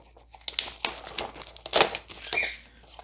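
Plastic wrap on a Kickstarter board game box is cut open and unwrapped, giving close, irregular crinkling and tearing bursts over about three seconds.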